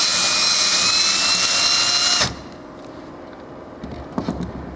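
A power drill boring a hole through metal rivets on an ICP Savannah S light aircraft whines loudly at high pitch for about two seconds, then stops abruptly, followed by a low hum and a few faint clanks.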